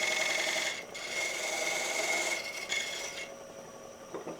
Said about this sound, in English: I'm going straight in there with my straight edge parting chisel, just dovetailing as I go along,